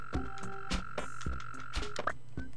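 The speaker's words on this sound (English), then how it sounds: "We got the mole cricket." A mole cricket in the Animal Crossing video game gives a steady electronic chirping drone, joined by repeated croaking, game-style calls and tones, close and continuous, with no talking.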